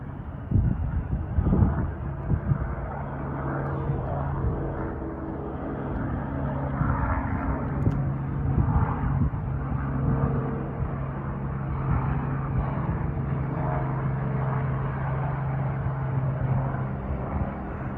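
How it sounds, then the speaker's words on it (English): A helicopter takes off at an airport, a steady, droning engine hum with a faint rhythmic thrum continuing for many seconds at moderate distance, with light wind buffeting the microphone. "Got a helicopter taking off."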